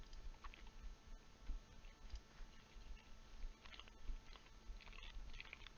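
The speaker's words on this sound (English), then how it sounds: "he's crunching and munching" Someone crunches and munches food over a Discord voice call, faint irregular chewing and crackly bites recurring throughout through a thin, compressed line.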